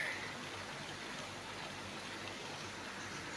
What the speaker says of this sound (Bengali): বাইরে বৃষ্টি পড়ছে আর আমি জানালার পাশে আজকে লাইভ করতে বসে পড়লাম